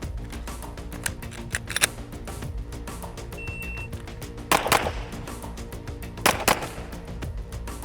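Gunshots during a tactical movement drill with the shooter firing off one leg; a few sharp, loud reports ring out at irregular intervals over a quiet background.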